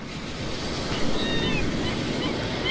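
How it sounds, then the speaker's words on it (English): Sea waves wash steadily against a quiet shore, a continuous broad hiss of surf with wind noise and gentle swells, fairly soft and with no voices. "The sea."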